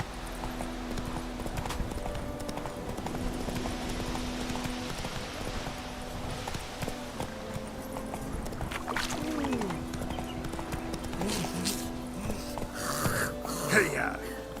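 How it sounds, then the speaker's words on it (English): A horse gallops in The Witcher 3 video game, a steady rhythmic clip-clop of hooves under game music and ambience, with a voice calling out and snorting near the end. "Run, Roach."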